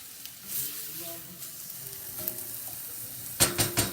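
Onion and garlic fry in a pan as the base of a meat sauce for pappardelle, a soft continuous sizzle with faint voices underneath and a brief utensil clatter near the end.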